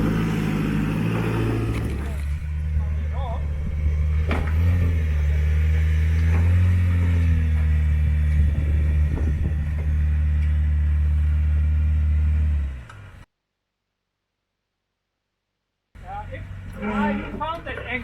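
A Jeep engine rumbling and revving close by as it crawls up a rocky line on an extreme 4WD track, a steady low drone that cuts out abruptly near the end before faint sounds return.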